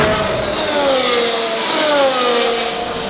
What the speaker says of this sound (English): all of a sudden, the sound of the cars hit you like a brick.